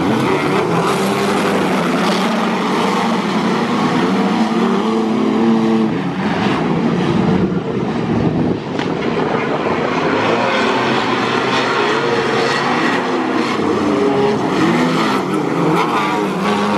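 Wingless sprint car engine with a reported engine problem at Renmark Speedway, a loud sustained roar with shifting pitch over about seventeen seconds, heard from the stands without talking.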